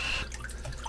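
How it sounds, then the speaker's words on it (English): Salted salmon rinsed under running water, a brief close trickle with light dripping and splashing. "And just wash it off first"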